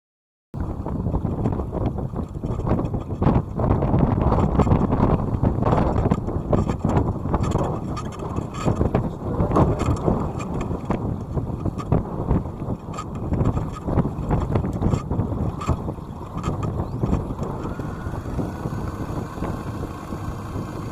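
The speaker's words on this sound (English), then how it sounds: "Notice I started winching in fast mode, and when the handle started to struggle I just moved it through 180 degrees and it switched direction" An electric winch handle hauls in the genoa aboard a sailboat, a steady loud motor whir running almost continuously under heavy wind noise on deck, with slight shifts in load partway through.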